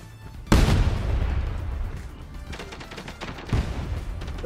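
Grenade launcher fire in the Quantum League video game lands as two heavy booming blasts a few seconds apart, the first sharper and louder, over busy game noise and rattling.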